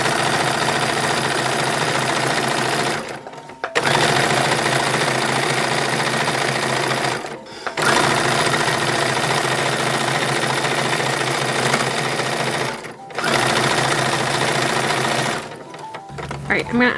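A sewing machine stitches tucks in fabric for an 1860s infant's dress, running in long steady buzzing runs broken by brief pauses, loud and close.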